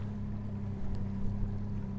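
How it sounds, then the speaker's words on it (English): Wind buffets the microphone on a fishing boat out on a lake, a steady, loud rumble with a low engine-like hum underneath and no talking. "Sorry about the wind."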